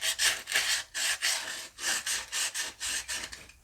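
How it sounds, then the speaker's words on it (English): Rhythmic strokes of 120-grit sandpaper rubbing an engine block surface, about nine close back-and-forth rasps in a steady rhythm, each a bright scratchy burst with brief pauses between. "So I'm just going to get some sanding paper real quick"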